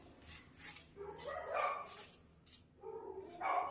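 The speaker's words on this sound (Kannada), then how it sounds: "ನಾಯಿ ಬಂದು ಕಾಣಿಸ್ತೈತಿ." A dog visiting a home in Belgaum gives a few soft, short yips and whimpers close by, coming in small bursts with quiet gaps between them.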